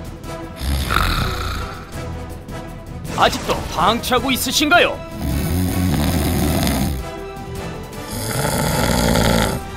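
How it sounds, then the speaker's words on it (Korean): A person snores loudly and close by, with heavy rasping breaths rising and falling in long waves, while a voice speaks over parts of it. "피하고 감추기 바빴던 코골이"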